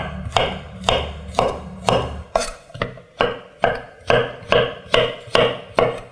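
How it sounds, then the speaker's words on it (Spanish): A knife slicing mushrooms into slices about 2–3 mm thick on a cutting board, about a dozen evenly spaced, crisp chops in a steady rhythm, close and clear with no talking. "Y ahora cortamos los champiñones en láminas."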